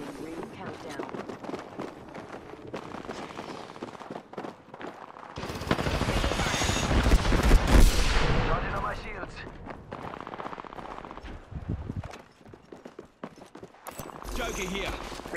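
Apex Legends gunfire during a firefight: bursts of rapid shots and scattered single cracks under game voice lines and player chatter, with a louder, denser stretch of fire in the middle.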